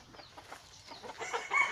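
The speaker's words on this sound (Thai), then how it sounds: "ไก่อยู่ในนี้" Chickens cluck softly in a coop, a string of low, scattered calls at a moderate distance with a rustly background, growing a little louder toward the end.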